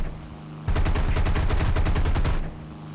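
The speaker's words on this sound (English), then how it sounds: "Push the fire and trigger to open fire." A torpedo bomber's rear gunner opens up with a machine gun in War Thunder, a loud rapid burst of evenly spaced shots lasting nearly two seconds before cutting off, with no voices.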